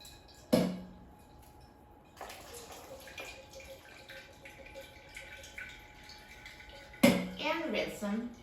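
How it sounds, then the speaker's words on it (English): Canned kidney beans are drained in a colander, a short splash at the start, then running, trickling liquid and light clattering, with a sharper pour near the end and faint talk in the background. "I'm just going to drain them in a colander"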